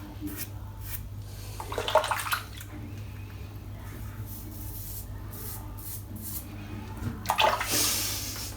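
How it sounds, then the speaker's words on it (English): Running water rinses shaving lather out of a bathroom sink after a head shave, a steady nearby splash and gurgle with louder bursts near the start and end as the flow is moved about. "Now this sink is literally chockers full of it. So let's get that rinsed away."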